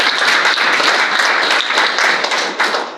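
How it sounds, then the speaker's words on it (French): Audience at a public school event in La Selle-Craonnaise claps steadily for about three seconds, a dense, loud, sustained round of applause close to the microphone. "Si vous voulez bien les applaudir"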